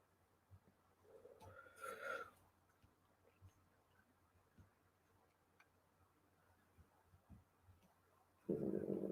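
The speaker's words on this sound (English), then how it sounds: "did y'all hear my stomach growl just then?" A man's stomach growls with a low, gurgling rumble that rises and falls, faint and close during a quiet stretch, with soft ticking in the background.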